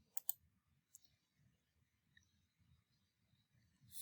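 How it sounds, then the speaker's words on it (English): A computer mouse gives a quick pair of sharp right-clicks, then one more faint click, each crisp and close against a near-silent background. "right click"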